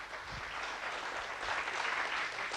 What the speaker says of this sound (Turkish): Bak, alkışlar var bak.